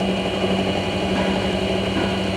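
A metal lathe turning slowly, a carbide insert tool grinding away at the workpiece while the cut smokes, heard as a steady, loud mechanical drone with a constant low hum and no talk.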